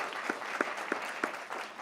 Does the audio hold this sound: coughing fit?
no